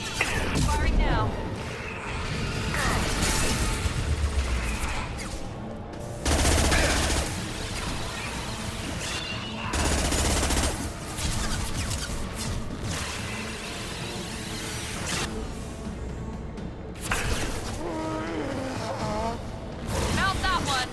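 Sustained weapons fire in the Mass Effect 2 Legendary Edition video game, with dense bursts of rapid gunfire and booming impacts running throughout, loud and continuous with periodic heavier blasts and game voices over it.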